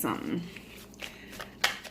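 Tarot cards shuffled by hand in a few quick, papery riffling bursts, close and fairly soft, over about two seconds.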